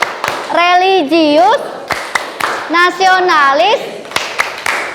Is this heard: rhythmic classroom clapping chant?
yes